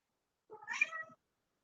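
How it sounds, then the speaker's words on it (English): A house cat gives a single short, faint meow, alone against silence. "That's my daughter's cat."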